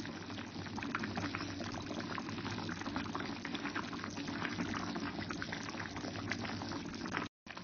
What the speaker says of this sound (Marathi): छान उकळी आली आहे.